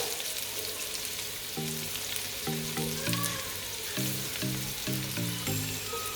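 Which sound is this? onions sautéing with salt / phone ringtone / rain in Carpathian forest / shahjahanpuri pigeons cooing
onions sautéing with salt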